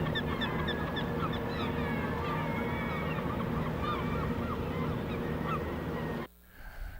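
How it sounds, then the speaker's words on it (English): Many seagulls call over and over near nesting colonies in a bay, their cries layered over a steady low background rumble that drops off suddenly near the end. "I had to turn the motor off and just bask in the sound of the seagulls"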